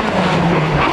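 A two-wheel-drive 1600cc Formula 2 rally car screams past at high revs during a stage of the 2000 Cork 20 International Rally, a loud sustained engine whine with tire noise, close and brief.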